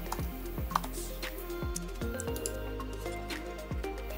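Keystrokes on a computer keyboard, entered while installing a plugin in a code editor, arrive in quick irregular bursts of close, crisp clicks with no talking over them.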